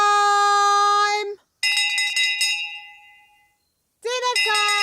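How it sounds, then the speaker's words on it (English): A bell rings for dinner in a cartoon: bright, tonal chimes strike in a loud run, stop briefly, ring again in a burst of clustered hits that fade out, then return loudly near the end. "Nanny rings the bell every night"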